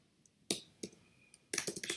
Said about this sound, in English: There we go, my typing again.